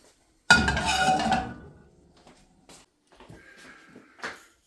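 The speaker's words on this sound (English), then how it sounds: "Bring the slow cooker forward for this and just fire it in." Food is tipped into a slow cooker with a loud clattering pour lasting about a second, then a few faint knocks and clinks of utensils and pot trailing off.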